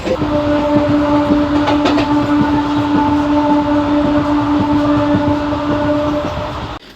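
A Narasapur–Machilipatnam MEMU train rolls along loudly and steadily, a sustained rumble with a long tonal horn-like hum and rhythmic clatter of wheels, fading at the end.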